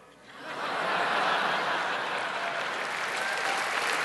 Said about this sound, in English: They're applauding me.